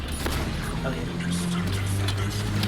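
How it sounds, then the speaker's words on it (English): Heavy, continuous booming fire from an incineration cannon in the Halo 5 video game, a dense wall of explosive blasts and rumble filling the whole stretch with no pause. "Oh, incineration cannon."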